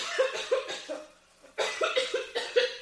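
A person coughs repeatedly and close by: a run of short, sharp coughs, then a brief pause, then another rapid series of coughs.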